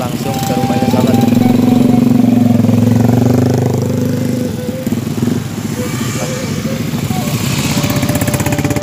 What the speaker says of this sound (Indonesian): 20-30 motor sahabat nih.